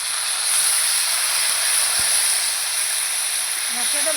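Ginger, green chilli and cumin paste with water hits hot oil in a pan, giving a loud, steady broadband hiss of steam and sizzle that holds evenly throughout, with no talk over it.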